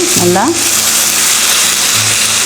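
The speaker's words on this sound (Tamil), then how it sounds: "கொஞ்சம் நல்லா வதங்கணும். கொஞ்சம் நேரம் விடணும்." Masala for mutton gravy fries in a pan with a loud, steady sizzle, close up, and a brief voice-like sound near the start.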